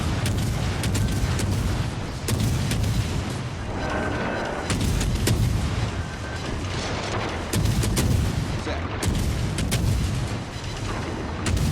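Naval shell fire in World of Warships Legends from a Tier 7 destroyer, repeated heavy booming cannon salvos with deep rumbling, loud and close, coming in several bursts with a steady rumble of game noise between them.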